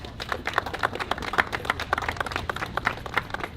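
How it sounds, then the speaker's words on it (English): A modest crowd at a city Earth Day event in Mount Vernon claps for the New York Power Authority, with individual hand claps distinct in a brisk, moderately loud round of applause. "So let's give them a big round of applause"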